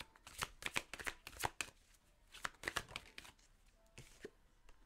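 Tarot cards being shuffled and drawn during a reading, a quick series of crisp riffling snaps and slides in short bursts, close and fairly quiet, with no talking.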